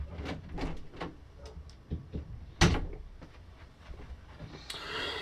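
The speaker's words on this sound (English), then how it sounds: "You hear my cat scratching at the door?" Soft, irregular scratching and light thumps against a door, close by and fairly quiet, with a brief louder knock partway through.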